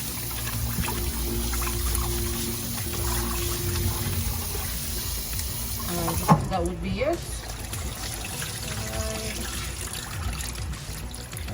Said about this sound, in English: This rice is starch. So let's get most of it out and getting the rice clean.